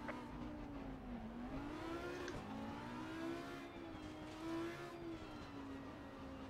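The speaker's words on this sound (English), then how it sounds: "See that revs a lot quicker than that Aston did." GT4 race car engine in the video game Assetto Corsa Competizione at Bathurst, revving and accelerating with a steady rising and falling engine note, a quick shift-like dip mid-way, heard alone and fairly close.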